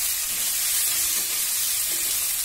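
Drumstick and potato masala sizzles in hot oil in a pan while being stirred, a loud, steady frying hiss throughout with faint scraping, close up and with no talking.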